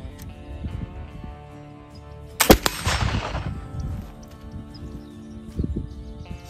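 A single sharp gunshot from a black powder load milled with bamboo charcoal, a loud crack midway followed by a brief rushing tail, set against quiet outdoor background with faint bird chirps.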